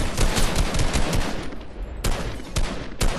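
Rapid automatic gunfire in a Fortnite match, loud and near, rattling in dense bursts with brief pauses around the middle and closing with a few sharp shots.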